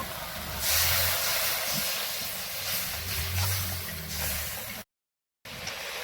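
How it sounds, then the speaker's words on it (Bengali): Continuous bubbling hiss of water boiling in a pot with a spice mixture for an egg curry, close and fairly loud, cut by a brief silent gap near the end. "জল ফুটে গেছে"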